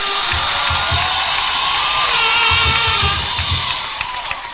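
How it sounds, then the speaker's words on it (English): A crowd cheers, whoops and claps for School of Business graduates rising at a Baraton University graduation ceremony, a loud, sustained roar with rhythmic low thumps beneath it that eases off toward the end. "Give them a round of applause."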